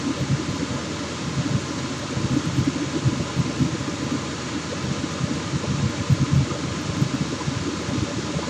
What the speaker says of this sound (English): It's like my compressor. It makes a big noise because he has two fans.